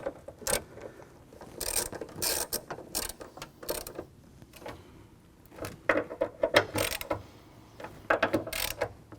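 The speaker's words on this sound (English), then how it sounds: "So now we'll shut it and we'll see how lined up we are." The tailgate of a 2022 Ford Bronco, fitted with a heavy-duty cast hinge and wheel mount, is shut, giving a series of close mechanical clunks, clicks and latch ratchets in irregular bursts, with no talking.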